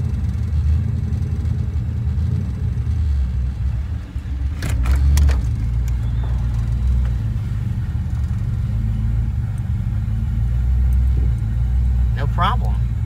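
A 1982 Pontiac Trans Am V8 idles in gear with a steady, loud low rumble throughout, broken by a few brief clicks and rattles partway through.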